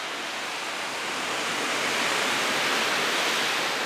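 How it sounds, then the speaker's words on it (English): Wind blowing across the outdoor deck of the Royal Caribbean cruise ship Quantum of the Seas at sea off Alaska, a loud, steady broadband rush that builds slightly and never lets up. "It's windy. It's not too terrible."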